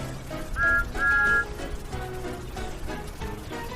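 A train whistle gives two short toots, the second held a little longer, over a busy storybook music and rain-like background, then fades away.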